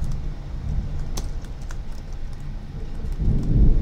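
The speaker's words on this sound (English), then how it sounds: "That's a bad storm right there." A heavy storm in the horror game Spooky's House of Jumpscares: steady rain hiss throughout, with a deep thunder rumble swelling near the end.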